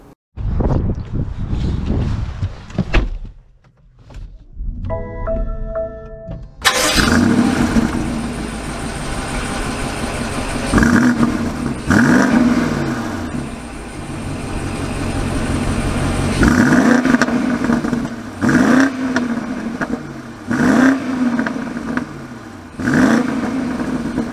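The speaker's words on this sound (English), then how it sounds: "Let's take it out and see how it drives." A 2022 BMW X7 M50i starts up after a few short chimes, its engine catching loudly, then pulls away and drives with a steady drone that rises and falls through repeated gear changes. There is no talk.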